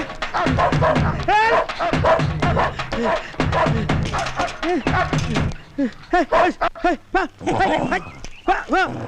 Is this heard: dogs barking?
yes